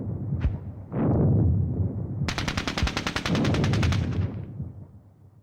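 Mortar rounds and gunfire in the wargame Squad Battles Eagles Strike: a couple of low booms open, then a rapid rattling automatic burst runs for about two seconds before the rumble fades out.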